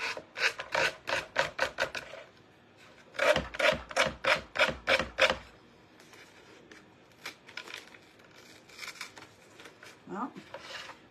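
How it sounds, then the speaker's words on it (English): Hand sanding a wooden knife block with worn sandpaper: a brisk run of rhythmic rasping strokes, a short pause, then another even burst of about seven strokes, followed by quieter scattered rubbing and handling noises. "my sandpaper needs changed out, you guys. I'm not getting the best sand on this."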